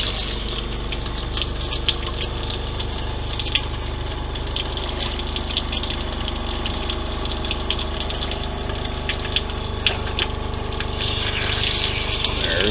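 An RV water pump hums loud and steady while pink antifreeze gushes from the faucet, a constant drone with brief clicks and spurts throughout, no speech.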